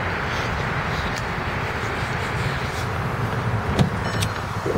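Power windows of a gray 2010 Volkswagen CC 2.0 turbo moving, a steady electric motor whir under a constant broadband hum from start to finish, with a brief soft knock near the end.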